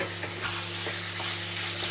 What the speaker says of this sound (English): you just keep stir frying a small amount of chicken at a time